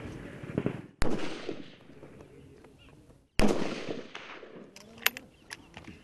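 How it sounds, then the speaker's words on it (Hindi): Gunfire from Border Security Force commandos at firing practice: two loud, sharp reports ring out with echoing decay, followed by a few smaller distant pops. "बीएसएफ की ट्रेनिंग डिक्शनरी में इसे फायरिंग प्रैक्टिस कहते हैं।"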